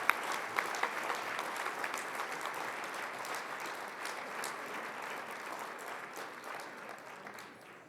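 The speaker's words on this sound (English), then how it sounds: "Please give a round of applause to the CEO of VidAngel Entertainment," Audience applause for the CEO of VidAngel Entertainment at a CEO of the Year awards event, a dense, steady clapping from a large crowd that holds for the whole stretch and tapers slightly toward the end.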